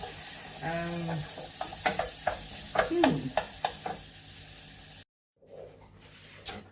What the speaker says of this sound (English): within just a couple of minutes, we got nice crispy bacon in there